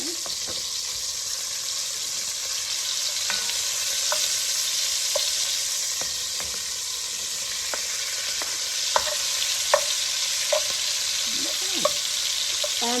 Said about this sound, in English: we're gonna add a little bit of beef at the time so it browns nicely and easily on each side